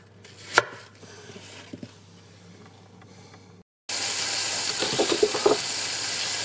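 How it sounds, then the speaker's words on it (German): A knife cuts apples into wedges with a sharp chop, a few lighter cuts on a board, then a brief pause before denser, louder chopping and scraping. "Und jetzt schneide ich die auch in Spalten"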